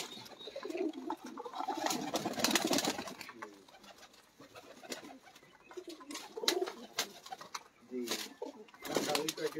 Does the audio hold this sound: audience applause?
no